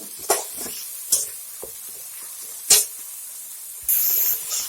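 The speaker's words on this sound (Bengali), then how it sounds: "আমি যে মশলাটা বেটে রেখেছি দিয়ে দিব মশলাটা ভালো করে কষিয়ে নিব" Ground spice paste stir-frying in oil in a pan for a koi fish dish, a quiet background sizzle broken by a few sharp scraping strokes, then a sudden louder hiss near the end.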